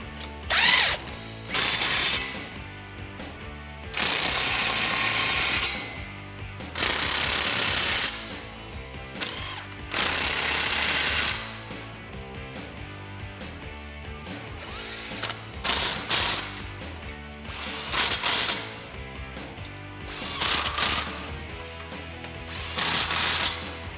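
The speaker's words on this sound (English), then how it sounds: "we're gonna go ahead and start tightening up our clamps" Repeated bursts of a ratcheting tool tightening exhaust pipe clamps on a 2018-2020 Mustang GT Fastback cat-back exhaust, close and loud, separated by short pauses with no talking.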